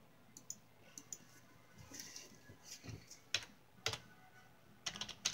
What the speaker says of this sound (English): Now let's type it.